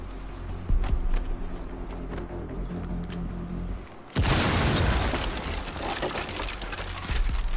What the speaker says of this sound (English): By detonating a breach charge on the trapdoor, you can create a passageway to the floor below.